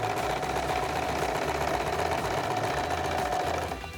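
A sewing machine runs steadily, stitching the border of a handmade Sabyasachi-style lehenga. A continuous, close mechanical whir holds for about four seconds, then eases slightly at the end.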